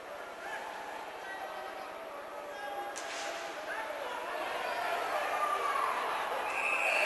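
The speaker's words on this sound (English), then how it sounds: "the crowd did take over in terms of the roaring" The crowd at a university ice hockey game, McGill Redmen against Nipissing Lakers, roaring in a broad, sustained wash that swells steadily louder toward the end, with a sharp crack partway through.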